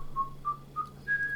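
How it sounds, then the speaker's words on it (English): A chess server plays a cheerful whistled tune after a good move in online bullet chess, four short clear notes rising at the end, faint and alone over a steady low hum. "If you play a good move, the server starts whistling as if it's in a good mood."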